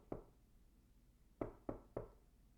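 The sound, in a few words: thud like someone knocking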